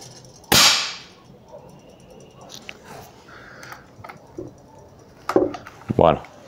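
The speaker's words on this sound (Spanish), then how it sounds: "Vamos a hacer un disparo" A single sharp, loud shot from a scoped rifle fired at a target, close by with a quick decay, followed by quiet handling sounds and brief voices.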